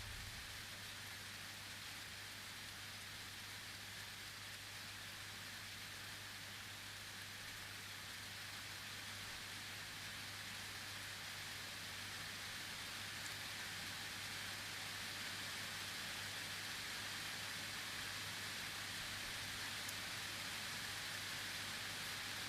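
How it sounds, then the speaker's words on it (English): Steady rain falls outdoors during a graduation ceremony, a constant, even hiss of drops on surfaces that carries on unbroken for the whole stretch, with no voices over it. "We are grateful for the rains."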